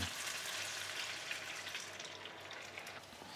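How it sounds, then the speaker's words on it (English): Steady hiss and sizzle of wine poured into a hot pan to deglaze, fairly quiet and continuous, settling slightly toward the end. "as soon as I pour the wine in, of course it goes quiet"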